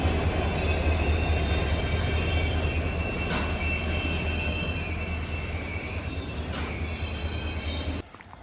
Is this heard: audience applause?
no